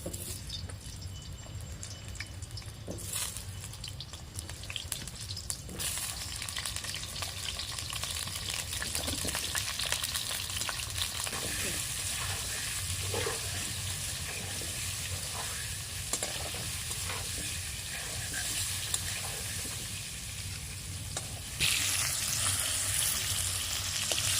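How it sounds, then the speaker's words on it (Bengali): Potatoes frying in hot mustard oil in a kadai, a loud, steady close-up sizzle running throughout with scattered crackles and light stirring scrapes, briefly intensifying near the end. "আগে আলু ভেজে নেব তেল গরম হয়ে গেছে"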